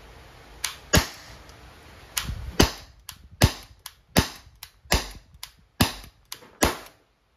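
A Umarex T4E TR50 .50 caliber CO2-powered airgun fires a rapid string of about a dozen sharp, loud pops at uneven intervals, each with a short decay, with no one talking.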